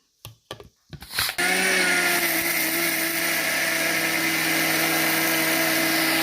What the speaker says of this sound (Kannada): ಇದನ್ನೀಗ ಪುನಃ ಮಿಕ್ಸಿ ಮಾಡುವ